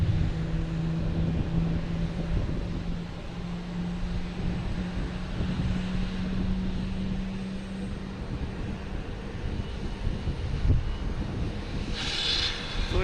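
Legion Airlines airliner departing Boston Logan Airport, a steady, moderately distant engine roar with a low droning tone that holds throughout and swells slightly near the end.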